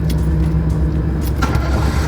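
A vehicle engine starting nearby rumbles with a low steady drone, with faint clinks and a slight surge partway through.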